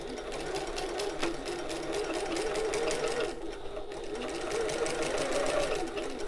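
Close and steady, a sewing machine runs a basting stitch along a bag seam within the seam allowance, its fast needle rhythm continuous apart from a brief pause midway.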